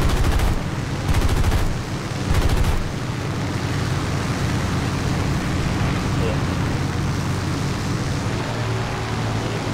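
Machine guns of an F2A-3 Buffalo fighter firing in War Thunder, dense continuous roaring fire with a few rapid stuttering bursts early on, loud throughout under engine and battle noise.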